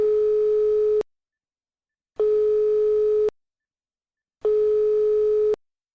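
Telephone busy or call tone in a Starfield game scene, three identical steady beeps about a second long with silent gaps between, loud and clean with no talk.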